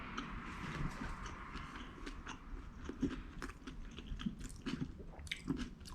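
Crunchy Weet-Bix with toppings being chewed, a steady run of close, crisp bites and mastication with irregular crackling crunches.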